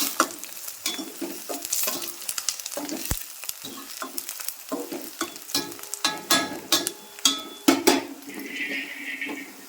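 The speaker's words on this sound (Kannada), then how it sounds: "ಲೈಟಾಗಿ ಗೋಲ್ಡನ್ ಕಲರ್ ಬರೋ ತನಕ ಫ್ರೈ ಮಾಡ್ಕೋಬೇಕ್ರಿ" Onion frying in a pan while being stirred, with close crackling sizzle and repeated scraping strokes that grow louder toward the end, no speech.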